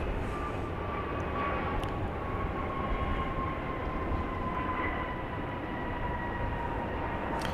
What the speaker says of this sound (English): JSX, Embraer 145. That's the type of plane, not the flight number.